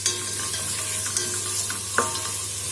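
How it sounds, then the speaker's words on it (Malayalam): Onions and curry leaves sautéing in oil for a roasted-coconut Kerala chicken curry, a loud continuous sizzle close by with a few sharp spatula scrapes against the pan. "ചെറുതായിട്ടൊന്ന് വഴറ്റിയെടുക്കണം. കുറച്ച് കറിവേപ്പിലൂടെ ചേർത്ത് കൊടുക്കാം."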